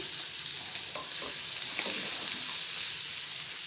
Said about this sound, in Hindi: सौते करते हैं हम प्याज को।